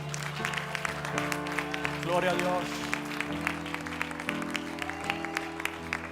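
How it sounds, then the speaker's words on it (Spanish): Church congregation clapping in praise, a steady patter of applause under a voice and sustained musical tones, with a brief vocal exclamation midway. "Denle un fuerte aplauso al Señor, hermano."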